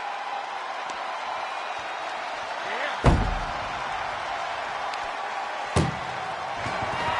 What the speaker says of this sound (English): Desperately trying to close the first of two doors.